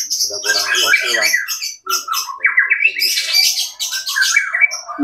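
Songbird in a cage chirping and trilling in rapid bursts close to the microphone, almost without pause, with squawky calls mixed in and no talk.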